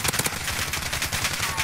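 Rapid sustained automatic fire from an M91 light machine gun in Modern Warfare, a dense, loud, steady burst rattling continuously close up with no pauses.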